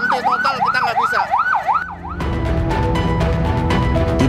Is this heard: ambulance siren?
yes